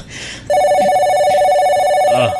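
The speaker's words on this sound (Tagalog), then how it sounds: "Niring mo imong cellphone." A cellphone rings loudly with a steady electronic tone that starts after a brief muffled moment and runs unbroken for nearly two seconds, with a short chirp near the end.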